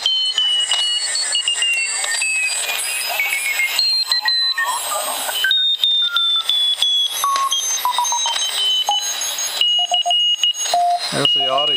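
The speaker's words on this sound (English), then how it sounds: "we're heading down into the CW part of the band, and should be able to pick up some CW." Morse code CW signals tuned in on a TenTec 1056 radio receiver: a series of steady tones at shifting pitches, keyed on and off in short and long runs as the dial moves through the band, over a continuous hiss.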